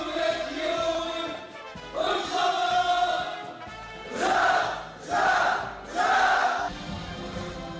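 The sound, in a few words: young railway workers shouting slogans in unison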